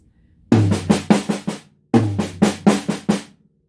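On a drum kit, two matching fills are played, each a quick run of six sharp hits moving from high tom to low tom with accented snare taps, separated by a short pause.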